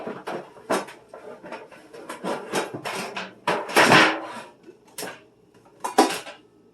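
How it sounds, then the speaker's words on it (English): Metal cookie sheet and baking pans clatter and clank as they are handled in a home kitchen, a series of sharp, close metallic knocks and scrapes in an irregular rhythm with no talking. "I'm going to grab my cookie sheet."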